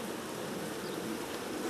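Honey bees buzz around a beehive in a dense, steady drone, close and even throughout.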